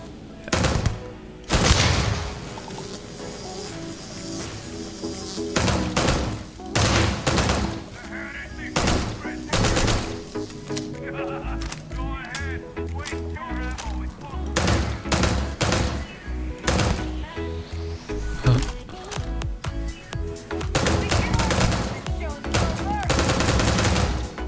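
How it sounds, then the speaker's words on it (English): Tesla-round weapon in Starfield firing with electrical discharge: loud, sharp bursts repeated in irregular volleys with crackling tails, close and dominant, with a voice speaking between shots. "you can see and hear the electrical discharge of the Tesla rounds"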